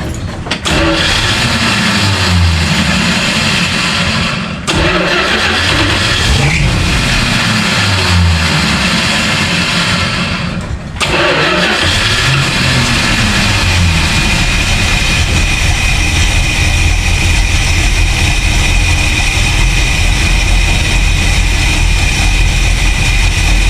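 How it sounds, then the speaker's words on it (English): A car engine fitted with a swapped-in 4-barrel carburetor cranks and catches after two brief pauses, then settles into a steady, loud, close idle with a low rumbling drone. "better than it was with the 2-barrel before we took it off. It's actually idling."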